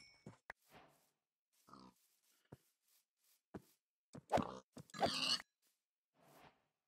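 Pig in Minecraft grunting in a string of short, separate snorts spread across several seconds, with a louder, fuller cluster of grunts near the end; no talking.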